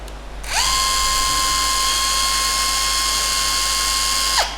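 A Ronix impact driver runs free at its lowest speed setting, around 1500 rpm. It spins up into a steady, high motor whine that holds for about four seconds before winding down.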